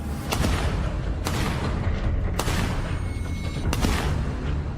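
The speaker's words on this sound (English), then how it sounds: "the young lady jumps out of the vehicle and starts shooting at the white minivan" A woman who has jumped out of a vehicle fires at a white minivan. Four sharp, loud gunshots ring out at uneven intervals over steady background noise.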